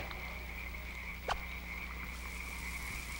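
A male toad gives a warning call as a rival male tries to clasp the female it already holds, heard as a steady croaking trill close by with a brief sharp noise midway.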